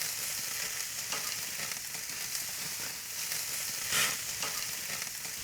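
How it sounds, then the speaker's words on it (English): Chops sear in a hot pan with butter, giving a continuous dense sizzle with faint crackles and one brief louder flare near the end, close and unaccompanied by speech. "once the chops are browned on the bottom, turn them over"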